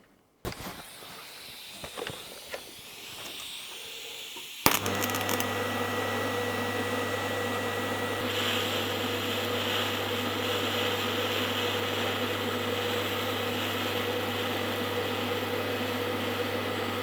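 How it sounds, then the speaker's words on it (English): TIG welder running a bead on a scrap piece of copper: a short crackle, then a steady electrical buzz and hiss that hold evenly for about twelve seconds, close and moderately loud. "So I'm going to run a weld on this scrap bit here"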